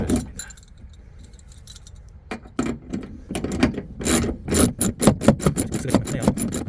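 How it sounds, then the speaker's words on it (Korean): A nut being turned by hand onto a bolt while fitting a fixed seatback bracket in a Kia Bongo 3 double cab, giving a run of close, quick metallic scrapes and clicks that grow busier and louder toward the end. "너트를 돌려줍니다."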